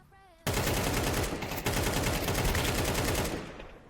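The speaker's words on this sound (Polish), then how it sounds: "Teraz jest strzał!" Rapid gunfire in Counter-Strike 2 erupts suddenly after a brief quiet, a loud continuous burst of automatic shots lasting a few seconds before trailing off.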